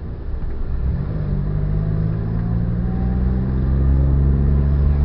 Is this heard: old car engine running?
yes